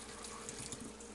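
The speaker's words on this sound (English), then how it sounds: "And of course you just drain the pasta." Boiled pasta water pouring from a pot into a colander in a kitchen sink, a steady rushing splash of liquid, continuous and close with no talk.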